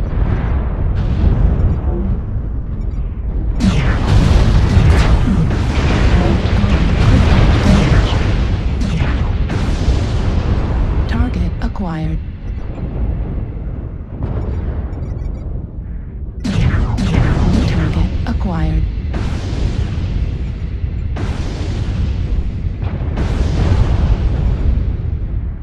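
Repeated missile explosions from the mech combat game MechWarrior Online burst out in heavy, booming waves that roll on continuously at close range, with a pause near the middle before a fresh barrage of blasts.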